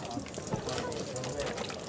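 Flowing water at a Japanese shrine streams steadily and close by, a continuous bright wash with small splashy bursts, while voices talk over it.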